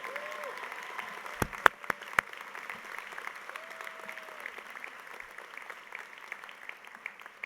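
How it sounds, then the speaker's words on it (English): An audience at a university honors convocation applauds award winners, a continuous moderate wash of clapping with a few loud, close, sharp claps standing out early and a faint tonal hum in the background. "Let's please have a round of applause for our award winners from the School of Arts and Science"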